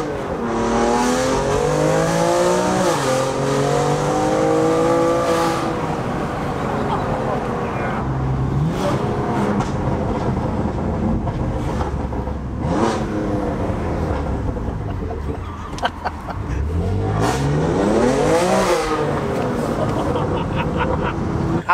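A BMW M2 with a modified exhaust accelerates hard, its engine revving up repeatedly with gear changes and throttle swells in a continuous loud roar, heard from inside the car with occasional voices beneath it.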